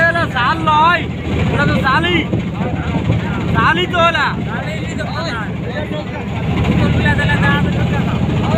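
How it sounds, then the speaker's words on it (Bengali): A boat on the wide Padma river near Rajshahi gives a low, steady engine drone throughout, heard under frequent loud nearby talk. "এদিকে একটা নৌকা দেখা যাচ্ছে"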